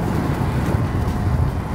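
Heavy, low rumbling wind buffeting the microphone, loud and continuous for a brief moment, with no voices.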